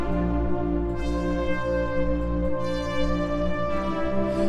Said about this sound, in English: now we can just start modulating a bunch of this spectral stuff here